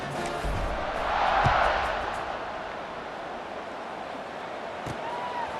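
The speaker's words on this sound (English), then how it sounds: "this crowd is buzzing after that last score" Stadium crowd buzz in a college football video game, a steady broad roar that swells briefly then settles into a constant background hum after a score.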